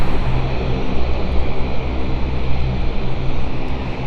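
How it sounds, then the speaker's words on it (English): An airliner departs the runway at London City Airport, its engines producing a loud, continuous broadband roar that holds steady throughout, heard from a spotting position with no voices over it. "So as our Edinburgh flight now departs the runway"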